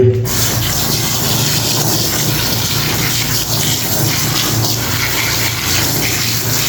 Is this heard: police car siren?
no